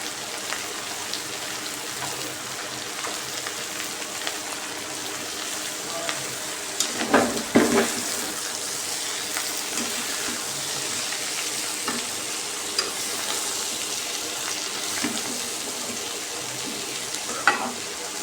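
Onions go into hot oil while mutton cooks, and a continuous close sizzle follows, with a burst of louder crackling and stirring clatter about midway and a few later knocks.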